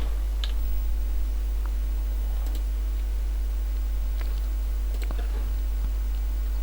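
A few sparse, light clicks and taps on a computer keyboard and mouse are heard over a steady electrical hum while someone searches for a film on a download site; there is no talking.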